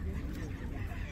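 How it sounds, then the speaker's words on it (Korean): Seagulls call over the winter sea at Sapgyocheon in Dangjin, a crowd of raucous, honking cries blended into a continuous low din with wind and surf, moderately distant. "갈매기 소리가 한꺼번에 들으니까 좀 짜증나는데 나는?"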